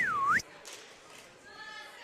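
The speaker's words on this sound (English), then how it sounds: "Hey, you brought your slide whistle" A slide whistle gives a short swooping tone that dips and then rises again, heard clearly at the start and then stopping abruptly, leaving only faint room sound.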